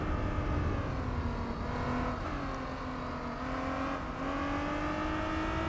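A TVR sports car engine in Gran Turismo 4 drones loud and continuous with a rising, slightly wavering pitch as the car accelerates, heard alone without voices.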